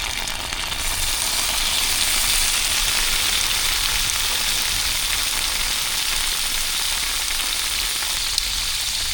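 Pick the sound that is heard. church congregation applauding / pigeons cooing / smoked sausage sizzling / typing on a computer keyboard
smoked sausage sizzling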